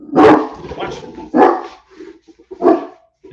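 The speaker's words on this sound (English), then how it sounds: "Look, now the dog's outside are barking. I got them all barking now." Several excited dog barks in quick bursts, loud and close, with short gaps and some softer yips between them, alone without talk.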